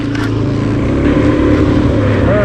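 Dual sport motorcycles ride at a racetrack, making a loud, steady engine drone with strong wind rumble, heard close from a rider's perspective.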